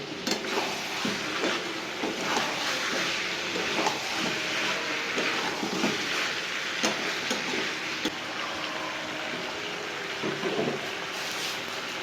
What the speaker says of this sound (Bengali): আলুগুলো দিয়ে একটু নাড়াচাড়া করি